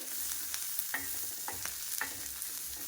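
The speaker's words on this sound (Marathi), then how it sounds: "हे पहा, मिरच्या छानपैकी भाजून घ्यायच्या आहेत" Green chillies roasting in a pan for thecha, a quiet sizzle under a few light taps and scrapes of stirring.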